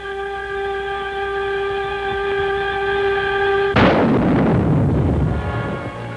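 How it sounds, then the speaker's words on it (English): Full salvo of rockets launched from a Mark 3 Landing Craft Support (Large), LCS(L)(3): a steady mechanical drone suddenly gives way to a loud, sustained roaring rush of firing that swells and then slowly trails off. "Or the entire salvo can be fired for maximum effect on the target."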